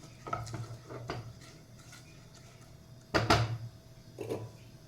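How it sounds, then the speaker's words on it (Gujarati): Soaked rice roasting in ghee in a pan for kheer, a spoon scraping and clinking against the pot in a loose stirring rhythm, with one louder scrape partway through and a faint sizzle underneath. "એને ઘી જોડે થોડાક શેકી લેવાના"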